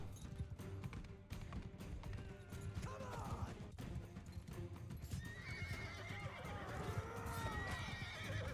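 A horse in the video game Grim Dawn neighs and whinnies several times over clattering hooves, amid busy combat effects and a low droning background.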